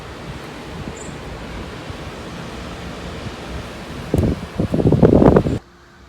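Wind and rain roar steadily outdoors as a constant broadband wash, swelling into louder gusty bursts before cutting off abruptly.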